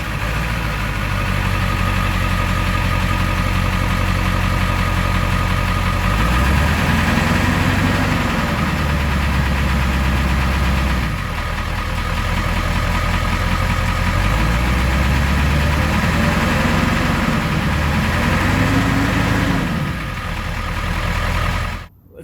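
A 2002 Ford 7.3 Powerstroke diesel idles through a Diamond Eye Big Dog muffler and Upower resonator, a loud steady rumble close by with several slow swells of revving rising and falling.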